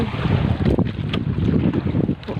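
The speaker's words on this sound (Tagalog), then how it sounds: "lumakas si hanging salatan, nagpalit ng hangin" Strong south wind roars steadily across the microphone on a fishing boat at sea, over the churn of water and the boat's motion, loud and continuous, with no voices.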